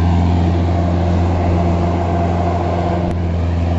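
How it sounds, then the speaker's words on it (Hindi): Mahindra 575 DI tractor engine labouring while pulling a fully loaded trolley, a loud, steady low-pitched diesel drone with a strong rhythmic thump and one brief click near the end. "ट्रैक्टर में पावर बहुत है, हाथी ट्रैक्टर है बिल्कुल ही।"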